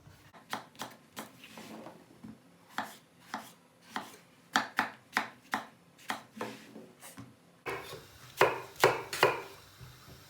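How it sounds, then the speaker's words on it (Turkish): A knife chops onions steadily on a wooden board, quick crisp strokes in irregular bursts, close and clear with no talking. "Kuş başından biraz daha ufak doğrayacağız."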